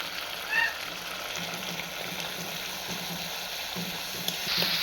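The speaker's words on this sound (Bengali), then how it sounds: "এবার আমি মশলাটা ভালোভাবে কষিয়ে নিব।" Spice paste with salt and turmeric frying in a pan, a low, even sizzle with faint bubbling that holds steady throughout, with no voices.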